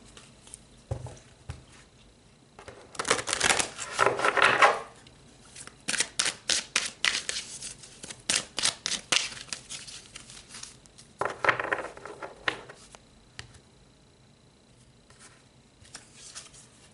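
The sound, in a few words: shuffling and pulling tarot cards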